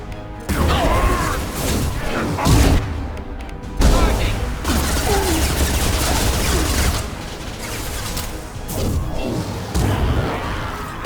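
Gunfire with incendiary ammo in the video game Mass Effect 2: several loud, crackling bursts of shots separated by short pauses.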